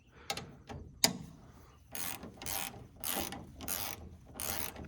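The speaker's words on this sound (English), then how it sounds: "Let's put the wrenches onto it and see what happens." Wrenches tightening a bolt with washers on a corn dryer part, heard as a few sharp metallic clicks followed by five rhythmic ratcheting bursts, close and fairly quiet, with no talking.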